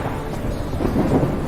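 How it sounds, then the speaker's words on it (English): Heavy storm noise of rain, wind and hail makes a dense, loud, steady roar with a low rumbling swell near the end. "Rain, wind,"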